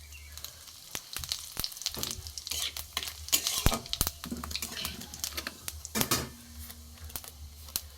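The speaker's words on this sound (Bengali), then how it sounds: "তেল গরম হয়ে গেছে, এখানে গোটা জিরে আমি দিয়ে দেবো।" Whole cumin seeds dropped into hot mustard oil, with a fry-and-stir sound of scattered crackles and clicks from a nearby pan, heard alone at moderate loudness for a few seconds.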